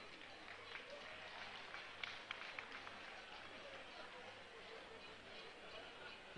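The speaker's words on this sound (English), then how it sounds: "A round of applause for this crabman." A crowd at an Army Day celebration applauds outdoors, producing a faint, continuous wash of distant clapping with a few louder claps standing out and murmuring voices under it.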